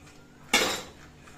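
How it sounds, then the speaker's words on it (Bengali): Boiled chickpeas with their stock tipped into a hot pan of chole masala, a sudden loud splash and sizzle that fades over half a second, then a quiet background. "দিয়ে দিলাম আমি বাকি সিদ্ধ করে রাখা ছোলাটা, দিয়ে এবার নাড়িয়ে চাড়িয়ে নেব।"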